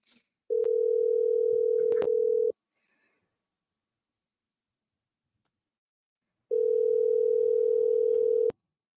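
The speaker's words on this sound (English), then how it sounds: "So I'm going to go ahead and call Nino back" A telephone ringback tone plays while a call is placed: two steady, clear two-second rings separated by a four-second silence, with no voices over it.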